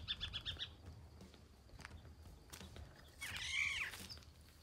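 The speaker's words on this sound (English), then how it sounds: "There's just birds everywhere." Birds chirping around a campsite on an outback road trip in northern Australia, quick repeated tweets at the start and a louder warbling call later, over faint outdoor ambience and occasional footsteps.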